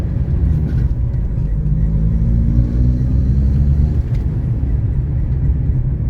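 A 1974 Honda Civic, an older car that has had tune-ups but is not in perfect shape, with its engine running as a loud, steady low rumble close by and no clear revving.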